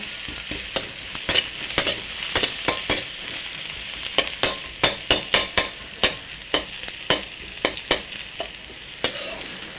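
Onion and garlic fry in oil for a dal tempering, a constant hissing sizzle punctuated by a rapid, regular series of sharp spatula scrapes and taps against the pan.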